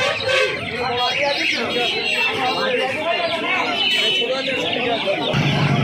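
Australian-breed chickens and chicks at a crowded hen market cluck and chatter continuously, a dense layer of bird calls mixed with constant human talk nearby.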